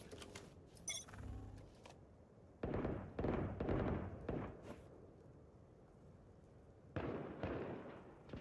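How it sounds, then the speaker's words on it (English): Swarm grenades from Killjoy going off in a Valorant tournament match, heard as several bursts of crackling, popping blasts in quick clusters, with a sharp crackle near the start and another burst toward the end. "Placing swarm grenade."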